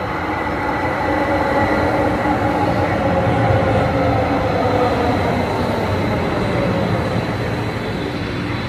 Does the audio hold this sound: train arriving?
yes